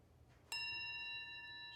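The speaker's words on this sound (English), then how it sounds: "I'll ring the bell." A mindfulness bell is struck once and rings on with a clear, sustained tone that slowly fades, alone in a quiet room.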